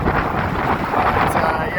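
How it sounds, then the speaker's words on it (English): Steady, loud wind buffeting the microphone on the exposed Embudito Trail in the mountains, a continuous rumbling roar lasting the whole moment with no pauses. "as you can hear, it's quite windy"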